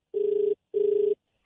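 Two steady electronic beeps, each about 0.4 seconds long, separated by a short gap, like a call-ended tone on a phone line.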